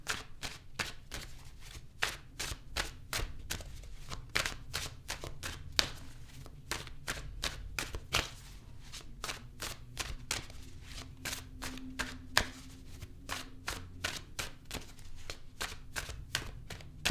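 Tarot cards are shuffled by hand in a steady run of crisp riffling slaps and flicks, close and fairly quiet, continuing for the whole stretch with no speech over it.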